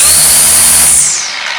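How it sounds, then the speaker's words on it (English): A Black & Decker LSTE525 battery-powered string trimmer runs at its higher second speed, giving a loud, close, high-pitched motor whine that holds steady and then drops in pitch as it slows. "if you've got some tall weeds or tall grass or whatever you're trimming and you need a little extra power, then you can put it on to speed number 2."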